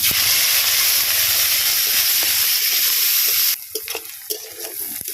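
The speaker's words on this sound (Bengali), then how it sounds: "পেঁয়াজটা ভালো করে ভেজে নেব" Onion paste sizzles loudly in hot oil with bay leaf, cardamom and cinnamon for a pointed gourd malai curry. The steady hiss suddenly drops to a quieter sizzle, with a few sharp stirring clicks.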